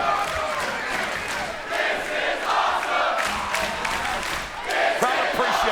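A wrestling arena crowd at a TNA pay-per-view event roars and cheers continuously, loud and dense, with swelling shouts and scattered whoops throughout.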